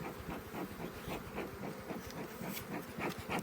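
Honeybees buzzing at an apiary in early April, a dense, steady hum of many bees close by with fluttering pulses as individual insects pass near.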